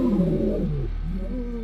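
Lions of the Mapogo coalition in Sabi Sand roar loudly and close by. There is one deep, drawn-out roar that falls in pitch, then a lower rumbling tail over a steady low hum.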